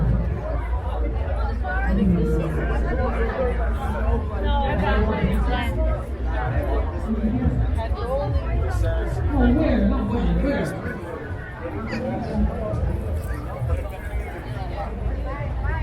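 Dense crowd chatter fills a busy street, a steady wash of overlapping voices close and all around, with no single voice standing out and a slight dip toward the end.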